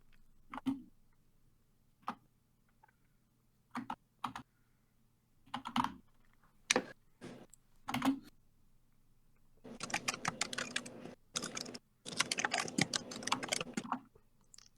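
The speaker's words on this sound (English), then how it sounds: "The ambiance of typing. Really adds suspense." Computer keyboard typing in a quiet room during a game-show break: scattered single keystrokes at first, then long dense bursts of rapid clacking with short pauses, close and crisp, with no one talking.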